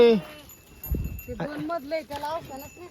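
A sheep bleats up close at the start beside water where the flock is drinking, followed by a muffled thump and then someone talking.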